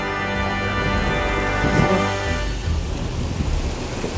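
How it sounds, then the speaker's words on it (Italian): A spring thunderstorm with hail and rain in Quartu Sant'Elena drums steadily on surfaces, with a rumble of thunder midway, loud and continuous and with no talk. "Sta grandinando."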